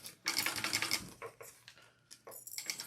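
A sewing machine stitches a seam on a small fabric bag, producing a close, rapid mechanical chatter in several bursts separated by brief pauses.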